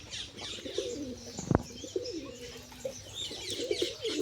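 A pigeon coos softly and repeatedly in low, rolling murmurs, with a sharp tap or flutter midway and faint chirps and background hiss around it.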